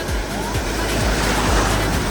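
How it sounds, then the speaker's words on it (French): A wave crashes against a 4x4 driving through water in Moremi Game Reserve, Botswana, a loud rushing wash of water over steady engine rumble with splashing throughout. "Ah, je me suis pris une vague."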